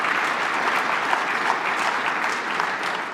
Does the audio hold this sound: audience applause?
yes